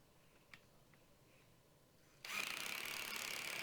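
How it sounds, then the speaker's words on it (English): A power driver sinks 2-inch screws into a 2x4 frame resting on 3/4-inch plywood, starting abruptly after a quiet stretch and running as a loud, steady, close whir to the end. "driving 2-inch screws"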